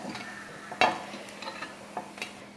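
Cooked paniyaram dumplings are turned and lifted out of a pan, giving a soft sizzle with light scraping and stirring taps, including one louder clink, at close range with no talking.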